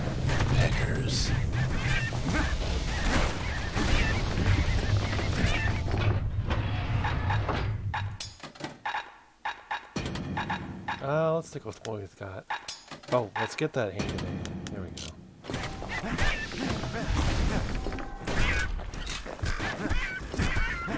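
Birds honk during combat in the video game Bastion, heard as goose-like calls among thuds, game music and effects. Someone talks over much of it.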